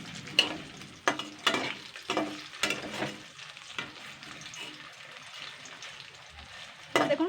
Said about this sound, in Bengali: দেখুন মাছগুলো কিন্তু ভাজা হয়ে গেছে।